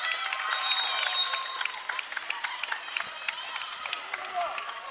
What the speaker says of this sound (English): both squads deserve a round of applause